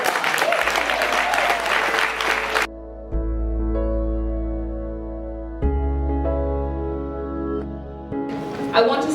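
A loud burst of audience applause at a live event celebrates Real Sisters' 20th birthday, then cuts off abruptly into sustained musical tones. A short flurry of clapping returns at the very end.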